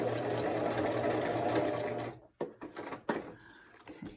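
A sewing machine stitches through paper journal scraps in a fast, steady whirring run for about two seconds, then stops, followed by a few short bursts and clicks.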